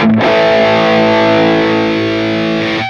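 A heavily distorted electric guitar chord rings out loud and sustained for about three seconds, thick and buzzing, slowly fading at the end.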